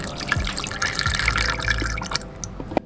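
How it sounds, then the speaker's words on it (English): Used blix, a color film developing chemical, poured back into its container at home: a close liquid stream that trickles and splashes for a few seconds, then tapers off with a final drip. "go ahead and pour the Blicks back into the container"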